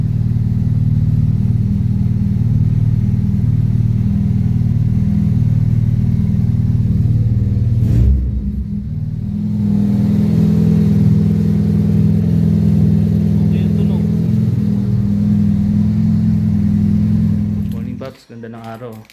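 A 1992 Honda EG car engine idles at about 1000 RPM after a cold start, a steady low rumble that briefly dips before settling back into an even idle.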